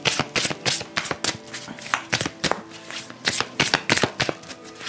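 Tarot cards being shuffled and drawn by hand: a rapid, uneven run of crisp riffling and slapping card snaps, close and fairly loud, continuing without pause throughout.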